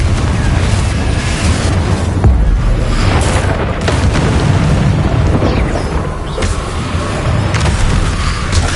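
Explosive spells such as Bombarda and Confringo in the Hogwarts Legacy video game, a dense run of loud booming blasts and bursts one after another, with heavy rumble throughout.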